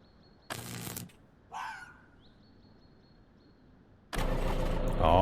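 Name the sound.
tractor engine starting after hotwiring, video game Vein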